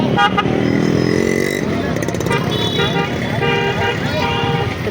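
Vehicle horns toot and honk repeatedly through a crowded evening vegetable market in Pandharpur, loud and close amid engine noise, with voices talking over them.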